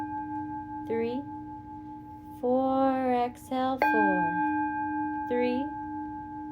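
A soft timing chime for an exercise class on hip flexor, quad and glute flexibility, sounding several times at steady intervals, with a voice speaking between the tones.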